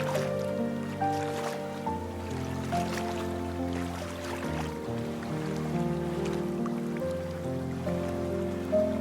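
Steady rain patters throughout a scene in the video game Zayne: Everlasting Wish, with sustained musical tones running underneath it at an even level.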